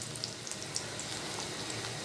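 Potatoes fry in hot oil with crushed garlic for a Bengali fish curry, a soft, steady crackling sizzle that stays close and even throughout.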